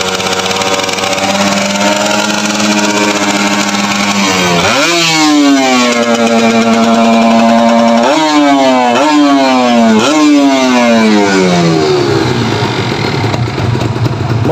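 Fuel-injected 2014 Kawasaki Ninja FI motorcycle warming up, idling steadily and then revved several times with rising and falling engine pitch, loud and close, no talk.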